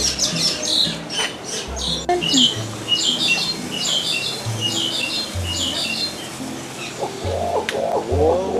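Harsh, repeated bird squawks ring out from the trees at Disney's Animal Kingdom, loud and close in bursts, with lower rhythmic honking calls and a busy outdoor background.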